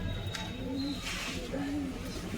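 A pigeon coos softly nearby, two low, rolling calls a moment apart over a quiet background.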